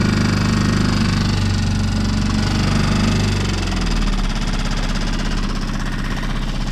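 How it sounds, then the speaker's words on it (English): A 6.5 hp Tohatsu-style four-stroke outboard motor idles on a sailboat just after starting with the choke on, a loud, close, steady chugging rumble that settles into an even rhythm. "Next, we'll get this outboard primed, running, chokes on, hold it a couple of times."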